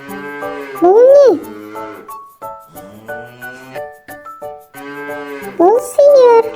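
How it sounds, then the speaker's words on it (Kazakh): A cow lets out two long, loud moos near the start and end, with light jingling and tonal background sounds between them. "Бұл сиыр."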